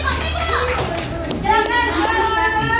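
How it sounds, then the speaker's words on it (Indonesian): A classroom of students claps for a group, a busy scatter of hand claps and thumps mixed with children's chatter and voices throughout, loud and close. "oke tepuk tangan untuk kelompok 4"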